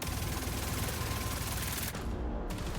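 A rapid-fire gun in a video game shoots a loud, dense, unbroken automatic burst that drops out briefly near the end and then resumes.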